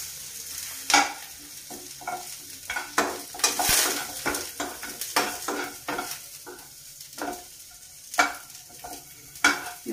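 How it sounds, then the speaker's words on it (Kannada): Thick-cut onion roasting in butter in a pan, stirred with a utensil: repeated scraping strokes over a steady soft sizzle, close and moderately loud, with no talking. "ಅದಕ್ಕೆ ಫಸ್ಟು ದಪ್ಪದ ಕಟ್ ಮಾಡ್ಕೊಂಡಿರೋ ಒಂದು ಈರುಳ್ಳಿ, ಈರುಳ್ಳಿ ಸ್ವಲ್ಪ ರೋಸ್ಟ್ ಆಗಿ"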